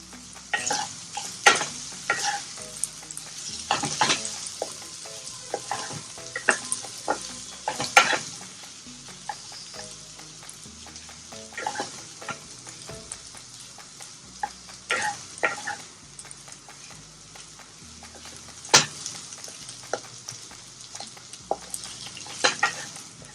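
Potato bhaji for Puneri misal stirred and mixed in a pan, with repeated spatula scrapes and clinks at irregular intervals over a faint, steady sizzle.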